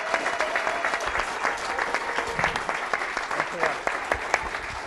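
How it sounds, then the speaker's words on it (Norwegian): Audience applause at a live Norwegian podcast show as guests are invited onto the stage sofa; steady, dense clapping from a full room, with some voices and cheers mixed in for the whole stretch. "applaus."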